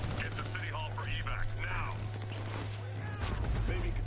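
Pistol shots in the Army of Two: The Devil's Cartel shooter, scattered pops mixed with game noise and a steady low hum, while a voice talks over much of it.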